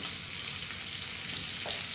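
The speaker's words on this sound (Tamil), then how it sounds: "குழம்பு கொதிக்க ஆரம்பிச்சிட்டு பொங்கி சிந்திடக்கூடாது திறந்தால கொதிச்சு கொதிக்கணும்" Kuzhambu curry with sambar powder and lentils bubbling in an open pot, a steady close bubbling hiss with no pauses and no voices.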